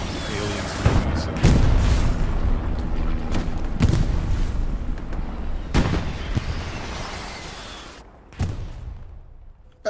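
Gunfire and explosions from the WWII shooter game Hell Let Loose: loud, heavy booms and shots in irregular bursts, some close and sharp, others rolling and distant, with voices faintly underneath.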